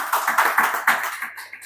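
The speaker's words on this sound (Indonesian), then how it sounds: "kasih tepuk tangan buat firman Tuhan" Clapping from a church congregation during a sermon, several quick bursts of hand claps in an uneven rhythm, fairly close, tapering off after about a second.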